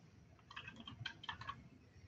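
Rapid, quiet clicks of fingers typing on a computer keyboard come in a short burst of keystrokes close by, with no talking.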